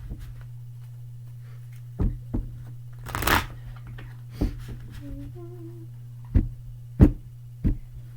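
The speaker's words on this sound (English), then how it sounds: "I'm going to shuffle the cards," Tarot cards being shuffled by hand, a few separate soft riffles and taps spread across the clip over a steady low hum, close and fairly quiet.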